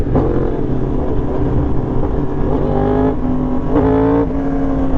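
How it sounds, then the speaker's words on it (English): A 2025 Yamaha R1 sport bike with an SC exhaust revs loudly up close, its rising and falling engine pitch climbing through several blips. "I think SC is the best sounding exhaust you can get for this bike."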